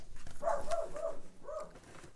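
Dog barking at something outside: a few muffled, moderately loud barks and whining yelps indoors, coming in two short clusters with no talk.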